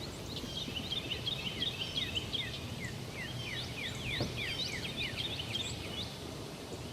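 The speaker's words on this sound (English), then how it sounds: "Y'all hear these birds behind me?" Many birds chirp and twitter in quick, overlapping bursts, faint and somewhat distant, over a quiet outdoor background.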